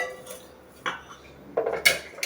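Metal kitchen pots, milk vessels and pans are handled at a home sink, with a few scattered clinks and clatters, a sharper cluster of ringing metal knocks near the end.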